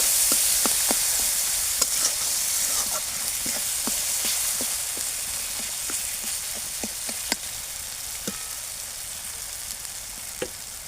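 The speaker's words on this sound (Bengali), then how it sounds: "সমস্ত দেওয়ার পর একটু ভালোভাবে নেড়ে নেব।" Spices with Kashmiri chili powder frying and sizzling in a pan for Bengali vegetarian aloo dum, a steady hiss under repeated sharp scrapes and taps of a spoon stirring, close and continuous.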